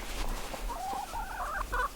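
Chickens kept behind electric poultry netting cluck in a series of short, nasal calls, moderately close over a low outdoor rumble, with no talking.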